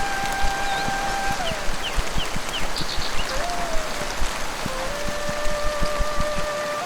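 Heavy rain pours steadily and densely throughout, a close, even roar of drops with scattered sharper splashes and faint whistling tones above it.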